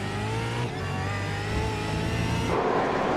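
A race car limping on a flat tyre in the iRacing sim racing game drones with a steady mid-pitched engine note that shifts up in pitch partway through, continuous and close.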